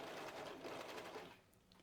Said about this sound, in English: So now I can go back to the overlocker